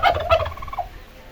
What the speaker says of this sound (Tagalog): Yung ating mga alagang pabo